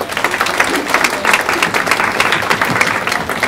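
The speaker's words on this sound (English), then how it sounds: "I think we should clap again for her." An audience applauds a woman at a women-in-business talk, with dense, lively clapping that holds steady and close for a few seconds.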